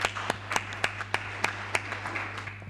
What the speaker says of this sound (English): Give ourselves a good round of applause